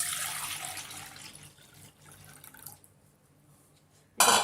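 Tamarind water for an ajwain rasam pours into a cooking vessel with a bright, splashy rush that thins to faint trickles, then a sudden loud splash at the end.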